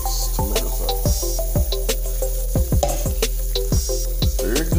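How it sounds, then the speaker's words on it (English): Tomato sauce being stirred into a flour roux in a pan for a cheesy penne bake, with repeated scraping spoon strokes and soft squishing over a steady low sizzle, close and alone. "we got all this sauce stirred in good"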